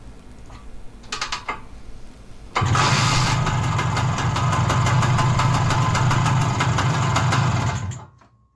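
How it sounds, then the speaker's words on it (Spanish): A Zanella 200 motorcycle, kick-started after ten years parked, catches with a few sputters and then settles into a loud, steady, rattling idle close by before cutting out at the end. "con una puta patada la moto arrancó"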